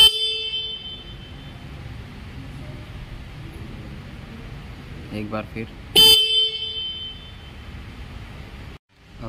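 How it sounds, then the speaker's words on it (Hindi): Single horn on a Suzuki Gixxer 150 motorcycle, sounding as a sharp, loud blast of a few seconds, with a second blast cut short near the end while someone talks over the sound. "सुजुकी जिक्सर बाइक में सिंगल हॉर्न है। इसका हम साउंड सुनाते हैं आपको कितने डीबी तक जाता है।"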